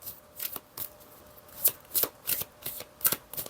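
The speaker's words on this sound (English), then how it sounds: "Alright, one more shuffle." Tarot cards are shuffled by hand in quick riffling bursts, close and crisp, repeating in an uneven rhythm of short papery flutters with no talking.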